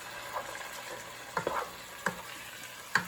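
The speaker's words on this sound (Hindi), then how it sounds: "मैं थोड़ा सा कीमा भून के 1 टेबल ऑयल में" Minced meat (keema) frying in a tablespoon of oil in a home kitchen, a low steady sizzle with a few sharp clinks and scrapes of stirring spaced apart, close and fairly quiet.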